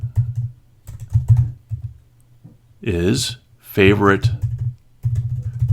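Clattering keystrokes on a computer keyboard come in quick bursts of clicks, close and crisp, broken by short stretches of someone talking over and between them.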